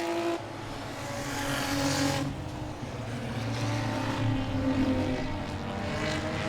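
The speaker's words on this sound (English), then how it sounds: "Might be overdriving that car, trying to chase down Alex Floroff, 17" Enduro race cars roar around Langley Speedway during a nighttime race, a loud, sustained engine drone swelling and fading as cars pass close by, with no voices.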